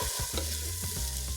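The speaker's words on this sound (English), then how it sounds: "So a little bit of olive oil in the pan. We add our vegetables. We'll give them a stir." Vegetables sizzle gently in olive oil in a pan as a spoon stirs them, giving a short, faint crackle broken by a few soft scraping strokes.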